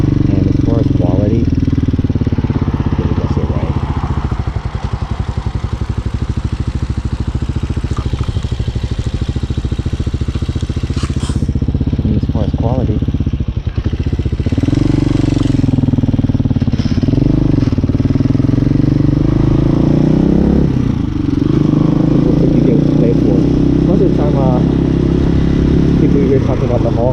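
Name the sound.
Hawk 250 motorcycle riding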